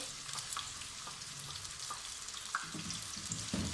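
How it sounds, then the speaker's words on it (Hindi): Onions sizzle in a cup of hot oil in a kadai for a chicken gravy masala, a steady, close crackling hiss with small pops and stirring knocks throughout. "अब इसके अंदर हम ये प्याज डालेंगे। देखें, प्याज को हम हल्का फ्राई कर लेंगे।"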